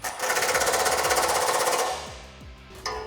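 Impact or power tool running a 13mm socket onto a Jeep Wrangler JK front bumper bolt, a loud rapid hammering burst for about two seconds, then slowing spins and a short final rattle, close and alone.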